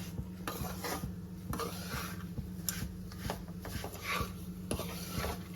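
A spoon scrapes and stirs a sabudana laddu mixture with cashews and almonds in a bowl, giving steady rhythmic rasping strokes with regular metallic taps against the rim, close and alone.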